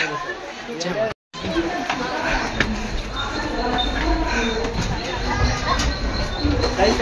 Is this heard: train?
yes